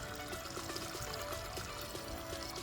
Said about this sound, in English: these pipe springs are just out in the middle of the woods. Natural water.